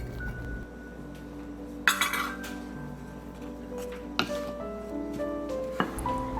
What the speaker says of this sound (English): Give it a quick stir to get them all mixed in.